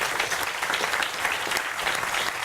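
An audience at a performance by the theatre company Les Mines de Rien claps briskly, a dense, even patter of many hands heard without talk.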